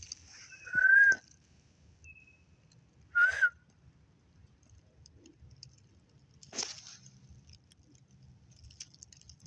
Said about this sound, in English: Somebody just whistled.